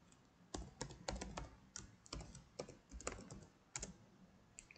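Someone types a password on a computer keyboard, a quick irregular run of close, crisp key clicks with short pauses, fairly quiet and without talk.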